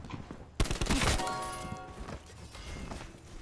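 Rainbow death effect in Black Ops 4 hardcore multiplayer: a sudden loud burst of layered impact and shimmering tonal tones, sustained ringing harmonics decaying over a couple of seconds amid game noise.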